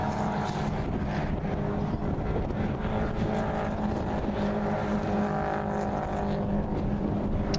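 Thunder Saloons race cars at Silverstone make a steady, dense engine roar with wind buffeting. The sound carries on unbroken and fairly loud, with no clear single pass standing out.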